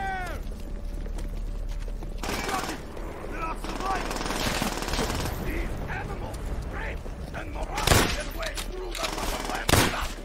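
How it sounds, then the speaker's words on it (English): An MG42 machine gun fires in Call of Duty: World at War, with sustained rapid bursts under game music and shouted battle voices, plus a couple of louder sharp shots near the end. "there's like an MG42 over here"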